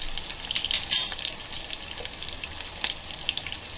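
Whole spices, chilies and curry leaves crackle and fry in hot oil for a Konkani-style buttermilk tempering, a steady close sizzle with one sharp spattering burst near the start.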